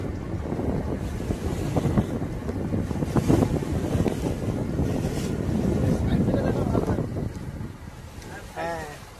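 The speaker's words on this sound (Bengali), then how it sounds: "এই আমাদের নৌকো চলেছে দুলতে দুলতে।" A boat travels and rocks on a Sundarbans river toward the Sudhanyakhali mangroves, giving a continuous rumble of engine, water and wind buffeting, with faint voices in the background.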